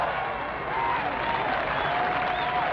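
A golf gallery at the 1977 tournament roars and applauds as Jack Nicklaus plays, a continuous crowd cheer with whistles rising above it, steady and fairly loud throughout.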